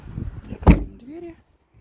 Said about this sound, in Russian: Давайте еще раз закроем двери